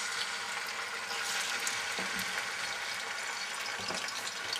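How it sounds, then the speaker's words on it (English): Chicken pieces for chicken cacciatore browning in a hot frying pan, a dense, continuous sizzle and crackle close by, with no talk over it. "now we got the chicken here. We're trying to brown it."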